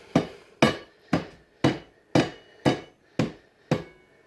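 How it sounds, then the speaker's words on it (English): Hammer taps on a TrafficMaster laminate flooring plank, nudging it into place: eight sharp, evenly spaced knocks about half a second apart, close and clear with no talk. "you sit it on the edge of that, and you tap it with the hammer"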